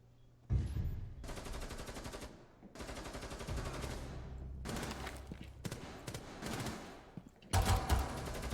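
Rapid automatic gunfire from an online shooter game on an airplane map rips out in several long bursts separated by brief pauses, loud and close, with a final sharp burst at the end.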